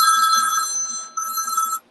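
A telephone rings loudly and close by in two bright electronic bursts, the first lasting about a second and the second following after a short gap, then stopping abruptly.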